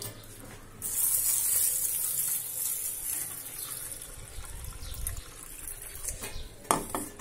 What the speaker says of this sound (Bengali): এই চাল আর ডাল এ দুটো আগে ধুই ভালো করে